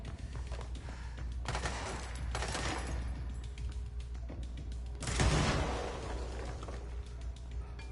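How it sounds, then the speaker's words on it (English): Gunfire in the action game Control, distant rattling volleys and a louder burst of shots amid a rumbling, reverberant background, with no speech. "The hell are you shooting at up here?"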